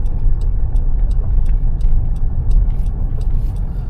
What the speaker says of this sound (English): And when it is safe, you can slowly take out the vehicle.